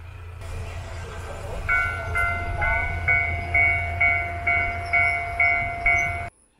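A local train pulls into Toro Station in the Kushiro Marshland of Hokkaido on a summer day, with a steady low rumble and a regular series of wheel clacks over rail joints before the sound cuts off abruptly. No one speaks.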